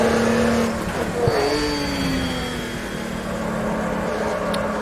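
A car driven hard around a race track, the engine droning steadily and rising and falling in pitch as it goes through the corners, with a brief tyre squeal near the start.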